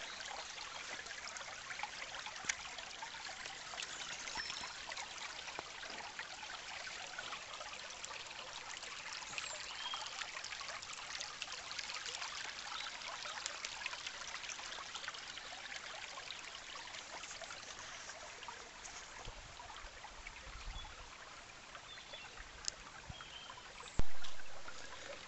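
River water flows at dusk in a soft, continuous trickling wash, fairly faint and steady, with a brief louder knock near the very end.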